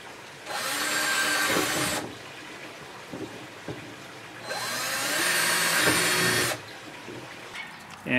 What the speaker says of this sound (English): So I'm going to drill out each one.